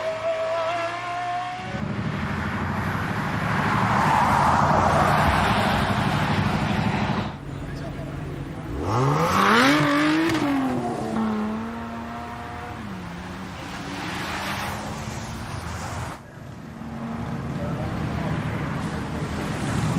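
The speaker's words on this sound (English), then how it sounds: "This is a Lucid Air GTP, so it's a new model." A new Lucid Air GTP electric car climbing a hill at a motor festival, its rising electric whine sweeping upward while a crowd and wind noise fill the background and people talk over it.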